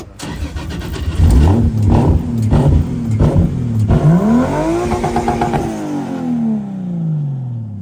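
A car engine cranks and catches, revs several times in sharp bursts, then winds down with a falling whine as it settles.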